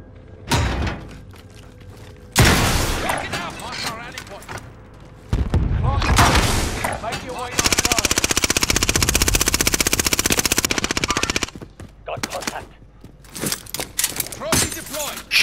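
Bursts of automatic gunfire and single shots in a Call of Duty: Modern Warfare match, loud and close, with a long sustained volley in the middle and sparser shots around it.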